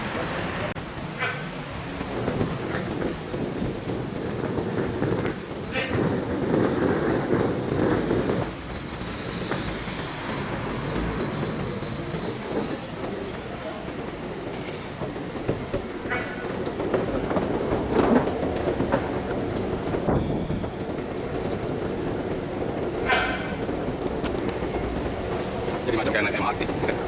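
An automated airport Skytrain people-mover rolls along with a steady rumble and rhythmic wheel clatter, occasional squeaks, and people talking faintly nearby.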